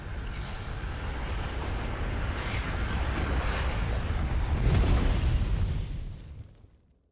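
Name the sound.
supernova explosion in Outer Wilds video game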